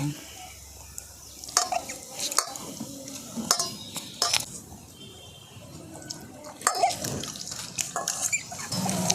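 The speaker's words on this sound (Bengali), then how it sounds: "তেঁতুলটাকে আগে থেকে ভিজিয়ে রেখেছিলাম আর ভিজিয়ে রাখার পর তেঁতুলের যে পাল্পটা সেটাকে আমি বার করে নিচ্ছি" Soaked tamarind squished by hand in water to pull out the pulp for jal fulki: irregular wet squelches, splashes and drips, close and fairly quiet, in bursts with short pauses.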